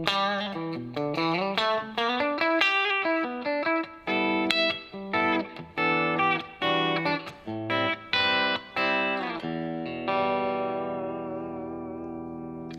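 Fender Stratocaster electric guitar on its bridge single-coil pickup with a clean tone, playing a run of picked notes and short chords, loud and close, before one final chord rings out and slowly fades. No voices.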